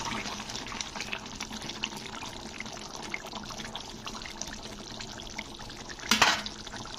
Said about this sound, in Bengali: মাছগুলোকে একটু ওপর নিচ করে একটু নাড়িয়ে দেবো